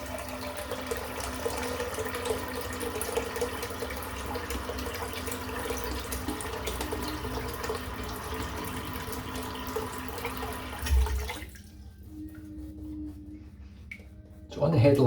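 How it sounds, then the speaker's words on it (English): Cold tap water runs steadily into a sink for about eleven seconds, then cuts off, leaving quiet room tone and a short final clatter. "just fill the sink up again with cold water"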